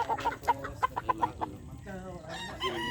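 Gilmore bloodline gamefowl chickens cluck in a quick series of close, bright calls, with a rooster-like call near the end over a low background murmur.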